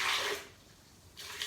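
Water is poured into a blender for a cashew cream, a short splashing pour that pauses and then resumes briefly.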